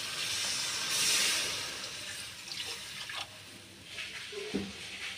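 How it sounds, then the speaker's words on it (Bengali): Water is poured into a pan of cooked-down spice paste for a Bengali fish curry (macher kalia), a close, fairly loud hissing gush that swells early on, then eases into softer splashing and sizzling with a few brief bumps. "এবারে জল দিয়ে দিচ্ছি"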